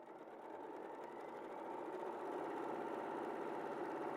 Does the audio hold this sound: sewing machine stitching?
yes